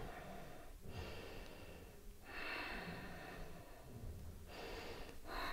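Heavy, deliberate breaths during a yoga flow, forceful nasal exhales and inhales in slow cycles of about two seconds, close and fairly quiet.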